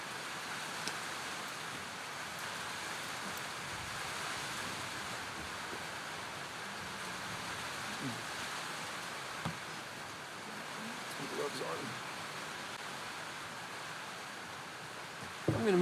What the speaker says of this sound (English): Man, it is really raining